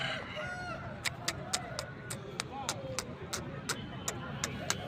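Roosters and hens at a busy chicken market, with sharp repeated clucks and short calls cutting through a constant crowd murmur and voices talking nearby.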